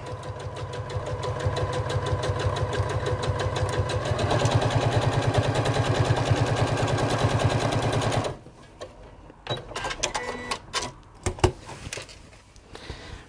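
A sewing machine stitches across the first back pocket of a Sew Together Bag, running steadily and loud for about eight seconds before stopping, followed by quieter handling clicks and fabric shuffling.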